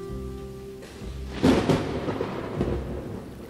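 Thunder from a desert summer storm rolls in as a soft musical tone fades, with a sharper crack-like swell in the middle that trails off into a low, lingering rumble.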